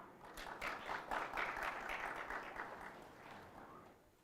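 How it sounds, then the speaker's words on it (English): A hall audience claps to welcome a speaker at a science communication session, a quiet, distant wash of applause that swells slightly and then tapers off. "With a huge round of applause, let us welcome Dr. H.S Niranjanaradhya sir."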